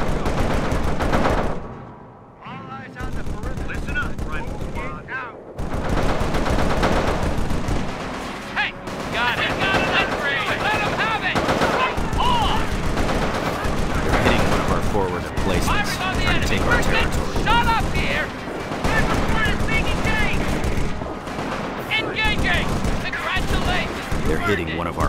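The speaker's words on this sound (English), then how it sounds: "Taking automatic fire." Dense, loud automatic gunfire and explosive bursts from Company of Heroes: Modern Combat, with US Marine Corps and PLA ground forces fighting. The firing rattles almost nonstop for the whole stretch after a brief lull near the start.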